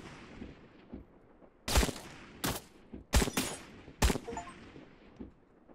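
Gunfire in Trans Siberian Railway Sim: a handful of sharp, separate cracks, about five of them, spaced irregularly over quiet low rumble. The shots are moderately loud and sound fairly close, with no talking.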